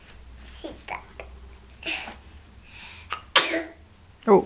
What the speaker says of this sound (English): cover your mouth when you sneeze